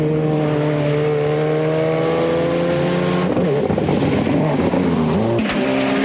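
Rally car in the 2004 New Zealand Rally Championship, Hawkes Bay round, drives a stage with a loud engine note that holds steady, then drops and climbs again through gear changes and revving, close and dominant throughout.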